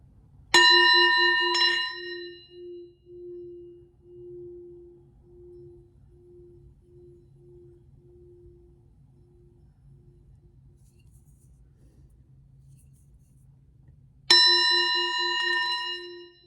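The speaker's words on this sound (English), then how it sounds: "let's end on a bell" Two strikes of a singing bowl or small bell, each a bright clear ring; after the first, a soft pulsing hum lingers and slowly fades over a faint low rumble before the second strike rings out loud and near.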